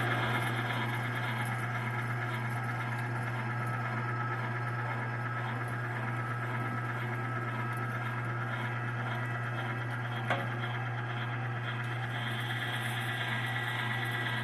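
A LEM Big Bite #8 meat grinder with a 0.50 HP motor grinds brisket into burger, its motor humming steadily and evenly for the whole stretch, with one faint click partway through and no talking.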